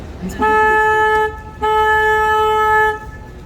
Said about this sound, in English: I'm also going to honk the horn 2 times.